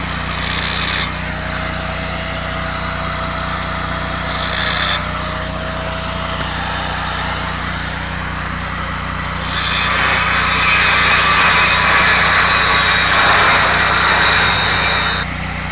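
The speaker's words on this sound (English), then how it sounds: "we'll get the grinder started, we'll get the welder started" Grinder and welder started up and running in a workshop, producing a steady loud mechanical hum with a high whine that grows denser and louder in the latter half, no talk.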